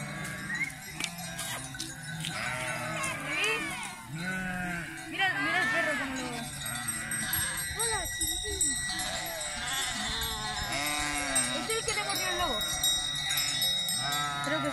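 Several lambs bleat repeatedly during a livestock transhumance drive, high wavering cries overlapping close by, while people talk over them.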